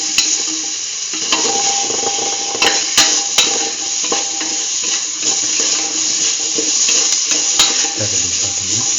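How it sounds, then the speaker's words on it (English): Chayote pieces are stirred and mixed in a pot, with scraping and clinking of a utensil against the metal over a continuous sizzle, and a few sharper knocks throughout. "Start and mix the chayote piece."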